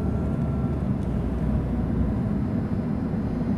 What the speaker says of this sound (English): Another one of those trucks.